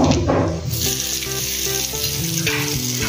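Dried red chilies and curry leaves sizzle loudly in hot oil for a coconut chutney, a steady crackling fry with a sharp burst at the start and a spoon stirring through it.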